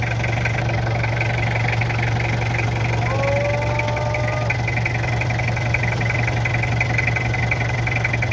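A Toyota 2L diesel engine idles with an injector bleed screw opened and misfires, giving a steady, close, knocking rumble that runs throughout with a slightly uneven beat. Someone talks faintly over it.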